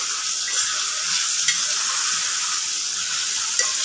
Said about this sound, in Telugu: చికెన్ ఫ్రై అవుతుంది.